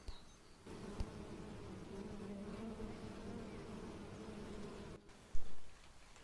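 Bees buzzing in a forest, a steady low drone lasting several seconds with a few small knocks and a louder burst near the end.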